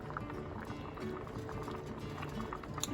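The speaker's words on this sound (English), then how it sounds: "pot back to a boil" A pot of oxtail broth bubbles at a rolling boil, a soft continuous burble and low churning heard up close with no talking.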